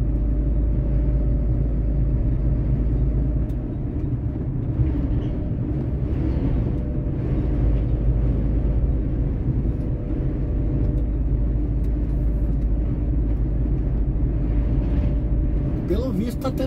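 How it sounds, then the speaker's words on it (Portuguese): Cars and trucks stream one after another along a highway near Palmeira, Paraná, making a continuous, heavy, low road rumble that swells slightly as vehicles pass, with faint voices underneath. "Tanto de caminhão vindo assim, de carro e caminhão vindo, um na bota do outro."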